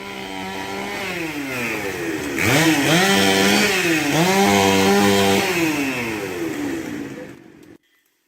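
A chainsaw cuts up a fallen tree after heavy rain, running close and loud, its engine revving up and dropping back repeatedly as it cuts, then cutting out abruptly at the end.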